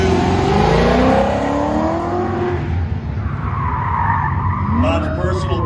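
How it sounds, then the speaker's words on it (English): A 1991 Corvette rolls up to the start line at a Goodguys car show autocross, its engine droning and revving close by with some tire noise, under a continuous announcer's commentary. "Bob Golick cruising up to the line in his 91 Corvette."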